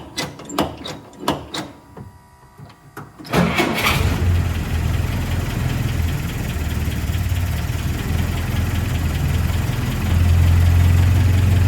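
A classic Jeep engine with a modern EFI swap cranks with a few clicks, catches and settles into a loud, steady idle close by, rising slightly near the end with no voices.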